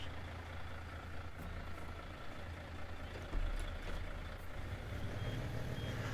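Truck reversing in the Snowrunner video game, a steady low engine drone with faint intermittent beeps and a brief thump midway, fairly quiet and continuous.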